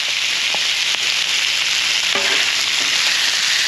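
Shark pieces fry in oil on a hibachi grill in a loud, continuous close-up sizzle, with a few faint clicks and clinks of utensils and no talking.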